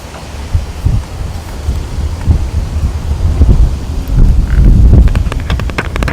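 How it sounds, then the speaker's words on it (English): Low, blustery wind buffeting a microphone, rumbling in uneven gusts throughout with a rougher stretch near the end. "It's so freaking windy."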